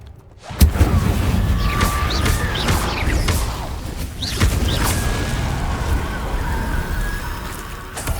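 An Incendio fire spell is cast in Hogwarts Legacy, a sudden loud whooshing burst followed by a sustained roaring, crackling rush with bright fizzing accents and further swells throughout.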